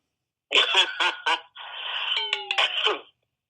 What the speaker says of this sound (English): That was me clearing my throat from my allergies.